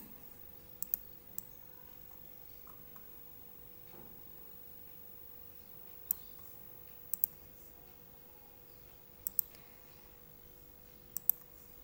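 Computer mouse clicks while copying data in a statistics program, a handful of sharp, isolated clicks and double-clicks spaced irregularly over a quiet room hum, with no talking.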